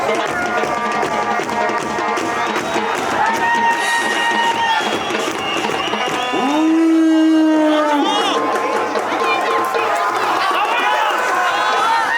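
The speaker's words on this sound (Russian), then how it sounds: "Это болельщики из Таравшана." Football fans of Istaravshan fill a stadium with continuous crowd noise, dense chatter and cheering, with a loud sustained whistle or horn rising for a couple of seconds near the middle before the roar carries on.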